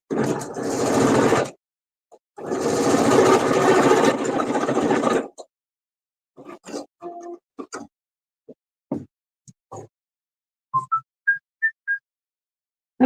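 Home sewing machine running in two long, steady bursts while quilting a patchwork pumpkin truck, followed by quieter scattered clicks, taps and a few brief high beeps.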